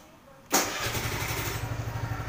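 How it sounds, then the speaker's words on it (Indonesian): A white Suzuki Address scooter with an old-style starter fires up with a sudden burst, then settles into a steady, fairly deep idle with a regular pulsing rhythm, close by and with no talk. "Sekarang kita coba nyalakan mesinnya."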